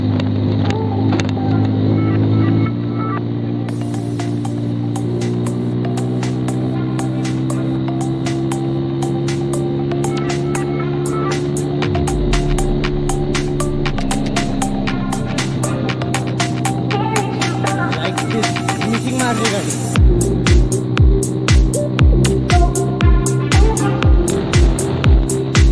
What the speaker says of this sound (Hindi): गाड़ी कुछ ब्लास्ट ज्यादा कर रही है।